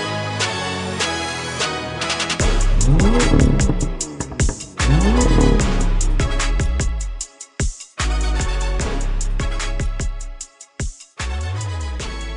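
BMW F87 M2 engine revving hard: repeated rising and falling revs with sharp cut-offs and pauses, loud and close, with no talk over it.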